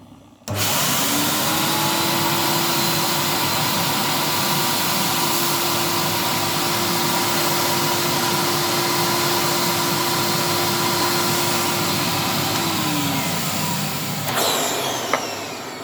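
Pro-Ject record cleaning machine running its vacuum suction on a vinyl record, a loud steady close roar held for about fourteen seconds before cutting off with a brief rattle.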